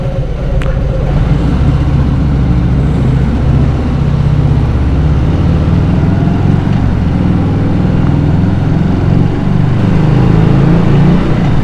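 A Harley-Davidson Sport Glide motorcycle engine with a stage 2 torque cam drones loudly and steadily, its pitch climbing and shifting through gears under continuous wind roar.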